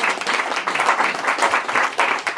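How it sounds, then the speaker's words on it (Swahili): Wedding guests at a Maasai wedding ceremony clap and applaud together in a dense, steady burst of many hands, loud and close, with no one speaking. "Tumpigie Bwana Yesu makofi mazuri"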